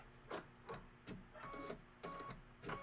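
A computerized sewing machine quilting a pillow, stitching in short rhythmic bursts with a mechanical whir, quiet and close with no voices.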